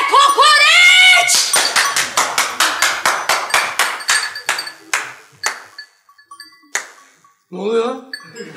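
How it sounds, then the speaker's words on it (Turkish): Hands clapping during a 1992 Ortaoyuncular stage performance of Güle Güle Godot: a brief voice, then a run of sharp, close claps that slow and thin out into sparse single claps, with a short voice again at the end. "Niye alkışlıyorsun?"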